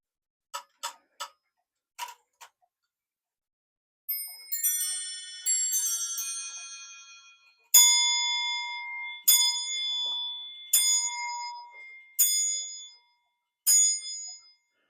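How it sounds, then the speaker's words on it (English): Several quick metallic ticks from an English quarter-striking clock, then a chiming sequence of bell tones followed by five evenly spaced, ringing bell strikes that decay between hits. "a nice quarter striking here, English with a bell"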